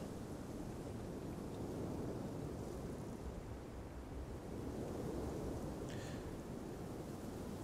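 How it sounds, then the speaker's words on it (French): A thunderstorm with steady heavy rain, a dense, continuous wash of noise with low rumbling thunder underneath, quiet and unbroken throughout. "L'orage se lève pour de bon."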